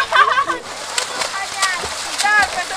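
Water splashing and sloshing in short bursts while people talk and call out nearby.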